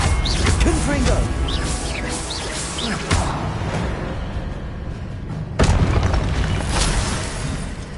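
Confringo fire-blast spell exploding in the Hogwarts Legacy video game, heard as sudden booming bursts within a dense, loud wash of game sound.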